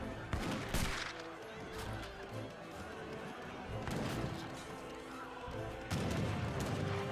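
Rifle volleys from skirmishers and Strelets clashing in an Age of Empires 3 battle, scattered sharp shots in clusters over a steady mix of game noise, with talk over the top.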